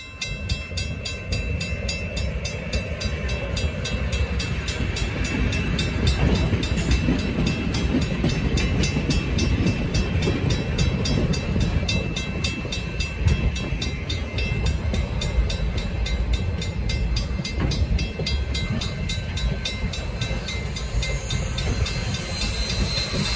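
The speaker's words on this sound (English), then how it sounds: "Then the locomotive will be traveling solo down the line" A steam locomotive and train, SOO Line 1003, rumbles steadily past at close range in Wisconsin, with continuous heavy rolling noise and rhythmic clatter of wheels on rails throughout.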